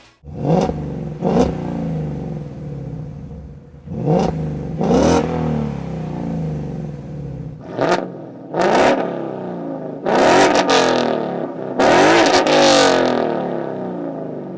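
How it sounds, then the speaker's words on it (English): Deep V8 exhaust from a Ford Mustang GT through a 3-inch stainless steel Corsa double helix X-pipe blips and revs in a series of sharp bursts, some short and some held longer, loud and close with no talking. "you really need to check out the Corsa double helix X-pipe. And this is what it sounds like."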